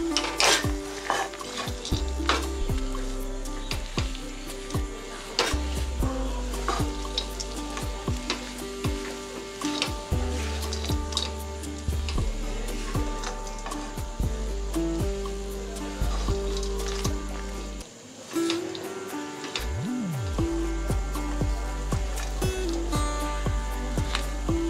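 A spoon stirs and scrapes a sugar-free dry fruit laddu mixture in a hot pan, giving repeated metallic scrapes and clinks over a soft sizzle, with one brief pause near the end.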